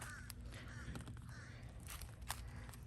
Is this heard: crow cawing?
yes